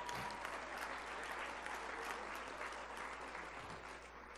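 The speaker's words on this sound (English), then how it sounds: "Give him a big round of applause." Sustained applause from an audience, dense clapping at an even level throughout with no voices standing out.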